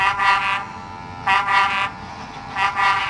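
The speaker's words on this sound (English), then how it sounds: "That foghorn is so loud it rattles my dome" A loud horn blares three times in long, evenly spaced blasts with short quiet gaps between them.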